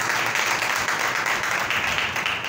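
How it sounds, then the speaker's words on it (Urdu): A church congregation breaks into loud, sustained applause, dense continuous clapping from many hands filling the room without pause. "زوردار تالیاں خدا کے لیے"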